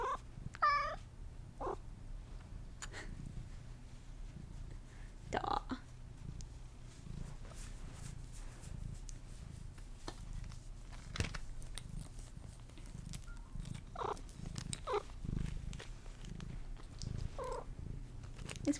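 A pet cat named Morgana purring steadily up close, with a few short meows and soft chewing or mouthing sounds, while a person talks to it intermittently.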